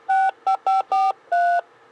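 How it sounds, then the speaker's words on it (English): DTMF keypad tones from a T-BERD 950 trunk-side test set dialing numbers: five clear, loud two-tone beeps in an uneven rhythm, the last held slightly longer, with no talking. "I can go down here, dial some numbers,"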